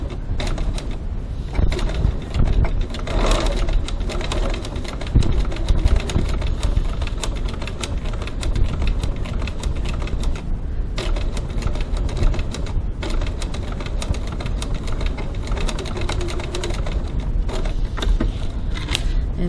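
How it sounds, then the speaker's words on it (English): A sewing machine top-stitches the curved outer edge of a fabric wallet panel with a long stitch length, giving a loud, continuous, rapid mechanical chatter that runs close and unbroken throughout. "I'm going to top stitch down this side here, 3mm, 1/8 of an inch from the edge"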